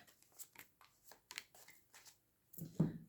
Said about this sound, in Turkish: Şimdi bu kartlar alalım.